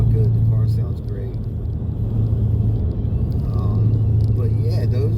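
Ford Mustang GT V8 fitted with a C&L axle-back exhaust and high-flow mufflers, a steady low burbling rumble while cruising, loud and continuous under someone talking.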